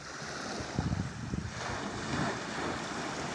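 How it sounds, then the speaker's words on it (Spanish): Sea waves washing in midway along Levante beach in the bay at Águilas, a steady near wash of surf with wind noise across the microphone and a few louder splashes. "A mitad de la bahía, estas olas ya suenan un poquito más."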